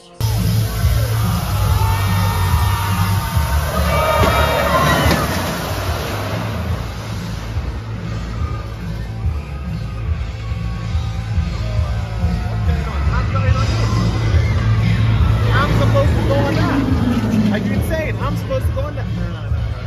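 A dense, loud crowd at Fright Night in the Thorpe Park theme park: continuous babble of many voices and shouts close by, with a steady low rumble underneath and no lull.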